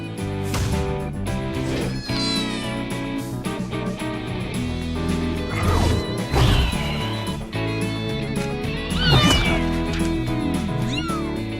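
A cat meows repeatedly over a dense, continuous wash of background sound, with several loud, drawn-out meows rising above the constant clatter and noise.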